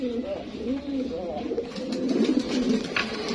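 Fancy pigeons at a sale coo in soft, repeated rolling calls close by, heard under people talking.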